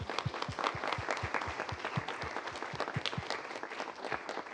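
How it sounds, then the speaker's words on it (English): Fairly quiet applause rises from attendees of an education summit award ceremony. The soft continuous clapping runs over a low, regular thumping beat. "So can we get a huge round of applause for everyone who participated?"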